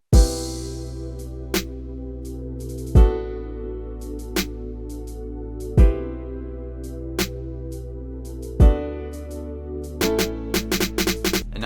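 A drum and bass breakdown built in FL Studio, with deep booming bass hits every few seconds, sparse spaced-out hi-hats and a sustained low tone, ending in a busier run of quick hits.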